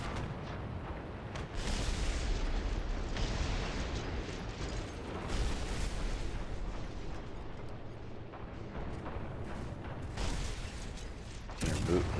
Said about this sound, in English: You can listen for tank sounds.